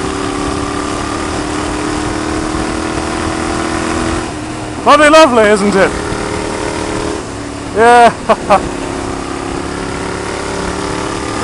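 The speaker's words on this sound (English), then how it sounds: "Turning corners like that at 60 miles an hour on a motorcycle" A motorcycle engine hums steadily along a winding canyon road, broken by two loud revving bursts that rise and fall as the bike takes corners. Close voices talk over it.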